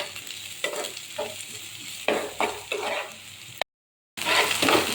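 Onion and garlic sautéing in a pan, a steady sizzle broken by several stirring scrapes of a utensil, with a brief gap of silence before the sizzling returns louder.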